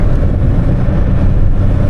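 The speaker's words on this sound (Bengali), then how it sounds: "ইঞ্জিনের সাউন্ড বেড়ে গেছে" A 2005 Toyota Corolla X engine revs high while driving, a loud, steady low roar with road and wind noise throughout.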